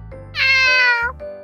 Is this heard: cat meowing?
yes